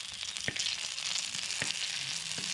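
Green chillies and garlic fry in oil for a peanut chutney, giving a steady close sizzle broken by a few light spoon taps.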